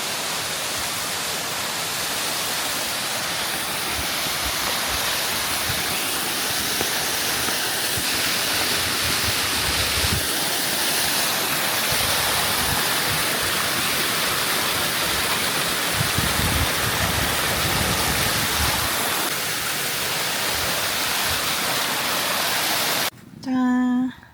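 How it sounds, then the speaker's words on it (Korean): Mountain waterfall in Kazakhstan pouring in a constant broadband rush, steady and close, filling the whole stretch before a brief louder sound at the very end. "아, 여기 폭포에서 물 받아가면 될 것 같아요."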